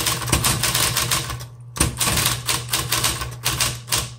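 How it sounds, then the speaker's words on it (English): A 1960s Smith Corona Electra 120 electric typewriter types in a rapid, steady clatter of keystrokes over a constant motor hum, with one brief pause partway through before the typing resumes. "let's go ahead and start typing"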